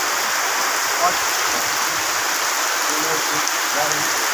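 Steady rain pours down outdoors, a dense, even hiss that stays close and continuous throughout with no breaks or distinct drops standing out.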